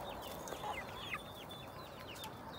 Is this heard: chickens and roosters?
yes